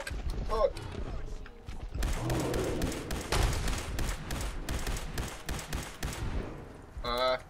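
Gunfire from the player's weapon in Fallout 4: a steady run of loud, repeated shots across most of the stretch, mixed with game noise and a brief voice near the end.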